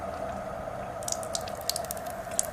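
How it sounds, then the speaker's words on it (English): Purified water runs steadily from a KYK Genesis water machine, a continuous close stream with a faint hum beneath and small splashy drips toward the end. "It turns on the water for you."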